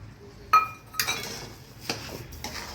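A spoon stirs sugar into carrot halwa in a pot, giving a few scattered metallic clinks and scrapes over a quiet background.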